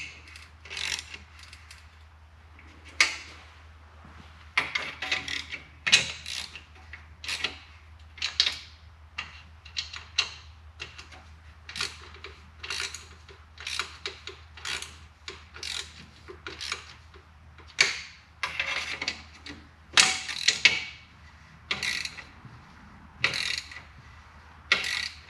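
A ratchet wrench clicks in repeated short bursts while tightening the top end bolts on a Harley-Davidson Evolution Sportster engine, close up and alone.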